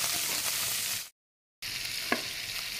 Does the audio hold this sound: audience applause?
no